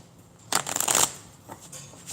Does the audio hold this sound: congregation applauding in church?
no